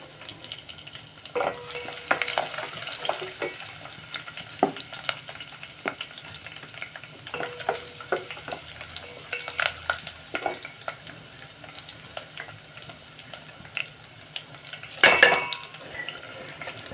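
Dried red chillies, garlic, cumin, curry leaves and mustard seeds sizzle and crackle in hot oil as a tempering for dal, with occasional clinks of a utensil and a louder clatter near the end.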